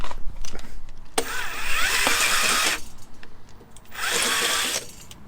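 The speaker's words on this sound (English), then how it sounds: "We had to open up this hole very slightly, which I shall do. Step drill it out" A power drill whines loudly in two bursts, a step drill bit grinding through metal to widen a hole in a heater exhaust, with a short pause between runs.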